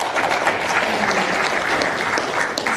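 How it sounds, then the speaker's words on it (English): A debate audience bursts into loud, sustained applause, a thick, continuous roar of many hands clapping that holds steady throughout. "We'll save the clapping to the end"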